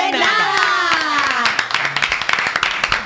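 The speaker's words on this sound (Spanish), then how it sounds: "Un aplauso." A studio audience on a talk show applauds, with a voice speaking over the start before a burst of rapid, crisp clapping from many hands fills the rest, close and steady.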